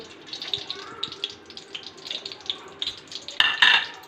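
Whole spices, green cardamom and mace fry in hot oil, giving a soft, close sizzle with light stirring scrapes and a louder clatter near the end.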